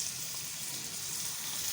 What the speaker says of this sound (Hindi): टमाटरों को मैं थोड़ा सा घी में भूनूंगी